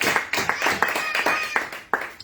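A church congregation at a Sunday service claps in short, uneven bursts, fairly close and lively, for a couple of seconds.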